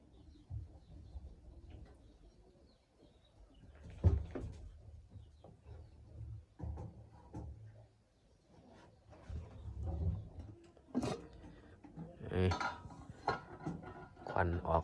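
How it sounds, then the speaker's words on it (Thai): Rice dry-roasting in a pan gives faint scraping and clinking of a utensil against metal, intermittent and quiet, with occasional louder knocks and background voices. "เอาข้าวคั่วนี่มาคั่ว"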